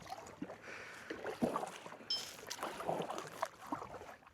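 A kayak paddle dips and pulls through creek water in winter, making soft irregular splashes and drips close by under light wind noise, with no talking.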